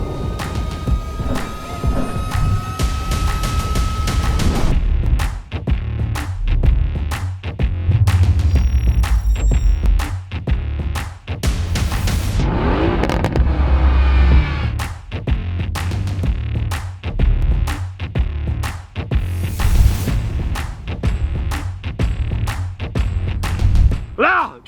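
A Mercedes-AMG GT engine revs hard while drifting, a loud, steady throbbing roar broken by many sharp exhaust cracks and pops, with voices talking over it.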